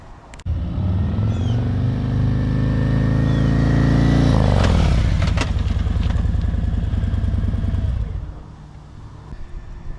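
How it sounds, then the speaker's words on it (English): A motorcycle braking from 30 mph using only the rear brake: a loud, close engine drone holds and then winds down in pitch as the bike slows and settles into a quieter idle. "that was rear brake only from 30 miles per hour"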